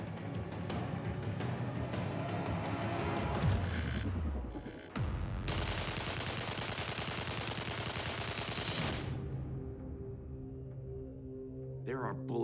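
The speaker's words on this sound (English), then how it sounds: "unloads the rest of the AK's magazine" Sustained rapid fire from an AK rifle as its magazine is emptied, a dense loud burst of shots lasting several seconds before cutting off, with lower rumbling and movement sounds afterward.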